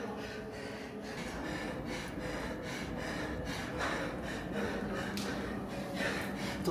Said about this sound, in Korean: 또 숨소리밖에 안 나거든 이거.